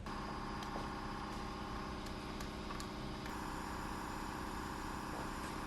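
A car engine idling at a steady, constant level with a faint repetitive exhaust knock; the valves and intake side are bent. It runs alone without talk, close and continuous.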